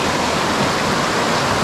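Steady, full rushing water of a mountain valley stream running right beside a hiking trail in Seorak Mountain's gorge, close and continuous with no talk over it.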